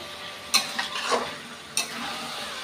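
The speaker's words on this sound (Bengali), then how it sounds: "কোয়াশ দিয়ে ঘেটে দিবে, মানে ঘেটে নিচ্ছে।" Squash is stirred while it fries in a pan. A few quick scraping stirs rise over a soft, steady sizzle, all close and moderately loud.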